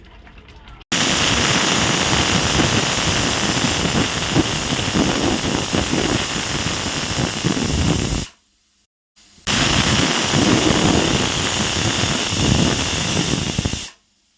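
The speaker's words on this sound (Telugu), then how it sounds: "ఇప్పుడు 3-4 విజిల్స్ వచ్చాక ఆవిరి మొత్తం పోయాక ఓపెన్ చేద్దామండి" A pressure cooker cooking rice vents a loud, steady hiss of steam for about seven seconds, cuts off briefly, then resumes hissing at full strength before stopping.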